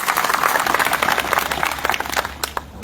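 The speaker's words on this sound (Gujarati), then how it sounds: "તમારા પોતાના માટે તાળીઓનો આવકાર થઈ જાય." A farmers' mass rally in Tankara over a power-line dispute breaks into applause, dense clapping from a large crowd filling the whole stretch with a continuous patter that thins slightly toward the end.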